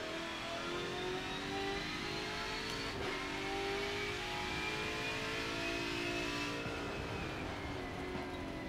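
A Dodge Viper engine in a Forza game holds a steady, loud, high-revving drone, the pitch gently rising and falling through the whole stretch with no talking.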